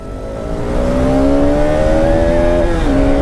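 A KTM RC390 motorcycle revs hard at the start of a race, its loud engine tone climbing steadily and dipping near the end as it shifts, with no talk.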